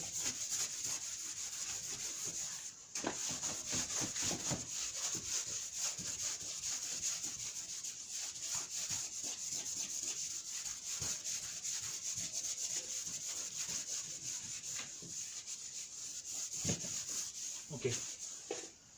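Dry, steady rubbing of a duster or cloth across a board to erase writing, a continuous scratchy swish with small bumps in intensity, with brief quiet speech here and there.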